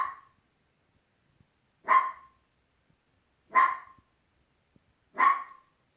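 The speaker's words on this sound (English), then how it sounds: "I know why you're barking." A dog barks four times, loud and close, each single bark spaced about a second and a half apart with near silence between, and no voices.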